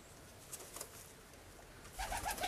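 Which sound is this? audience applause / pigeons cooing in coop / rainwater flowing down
pigeons cooing in coop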